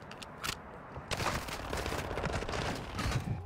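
Video game gunfire: a few sharp separate shots, then a dense, rapid burst of overlapping shots that keeps going to the end, loud and close, with no one talking.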